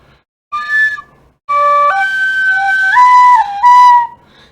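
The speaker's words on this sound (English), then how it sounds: "I do occasionally play a tin whistle." A tin whistle plays clear, loud sustained tones, first a short note and then a longer held phrase stepping between a few pitches, heard alone with no talk.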